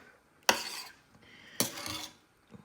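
Food being stirred in a pot, heard as two distinct metallic clinks of a spoon against the pot, each followed by a brief scraping tail, and a faint third tap near the end.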